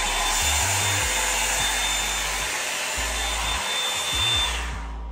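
A Revlon brush hair dryer runs on its high setting with a loud, steady broadband whoosh and motor hum, heard close and continuous for several seconds before starting to fade at the end.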